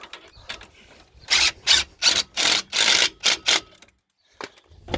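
A ratchet tightens the new brake caliper bolts on a Ford Transit, giving several bursts of rapid clicking close up, spaced about half a second apart, then a pause and a faint click at the end.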